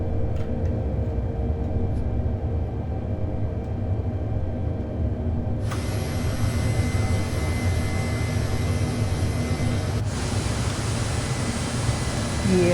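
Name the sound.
Mi-8 helicopter engine starting up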